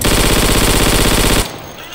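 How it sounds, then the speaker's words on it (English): A sustained burst of rapid automatic gunfire in Day of Infamy, loud and close, its dense rattling shots running steadily before cutting off abruptly, leaving a fading tail. "This gun's like an auto cannon when it goes off."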